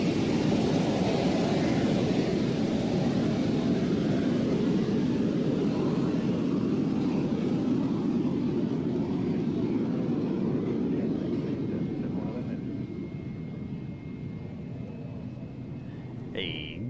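A steady, loud roar from aircraft at an airport's runway fills the scene, a broad engine rumble that holds level and then eases slightly toward the end, with a brief faint whine near the close.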